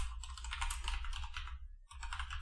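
Someone types a command on a computer keyboard, a close, quick run of key clicks that pauses briefly before a final short burst of keystrokes.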